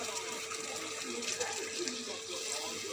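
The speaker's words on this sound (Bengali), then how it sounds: "এবারে জল দিয়ে দেবো পরিমাণ মতো" Water is poured into a pan of egg and potato curry. A steady splashing pour runs throughout, close and moderately loud.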